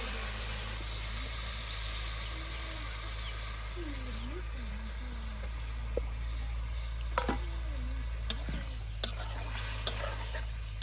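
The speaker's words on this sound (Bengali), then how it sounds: "এই যে মশলায় মাখানো মাছ এই যে দিয়ে দেওয়া হলো।" Spice-coated silver carp pieces fry in hot oil, a soft continuous sizzle over a low steady hum, with occasional stirring clicks and scrapes and a voice talking at times.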